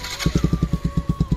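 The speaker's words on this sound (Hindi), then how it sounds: "फर्स्ट बार आपको बाइक का साउंड सुना देता हूँ मैं" Modified Bajaj Pulsar 125 motorcycle engine idling through its exhaust, a steady loud thumping pulse of about eight beats per second heard close up with no talk.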